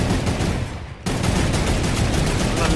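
Rapid, dense turret gunfire from the video game Fortnite rattles loud and continuous, breaking off briefly before resuming.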